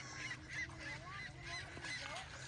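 Geese at a park honk repeatedly in a loose, overlapping chorus at moderate distance, with quieter talking voices and outdoor background noise around them.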